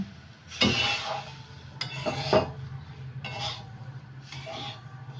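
Semolina for halwa stirred and scraped in a pan while it fries, with several separate bursts of scraping and light sizzling over a low steady hum, close by and moderately quiet.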